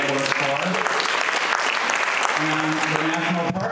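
Concert audience applause filling the room at a steady, loud level throughout, with a sustained musical tone underneath toward the end.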